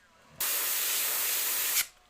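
An LS400 Supernova airbrush sprays clear coat in one steady, close hiss that starts abruptly, holds evenly for about a second and a half, then cuts off.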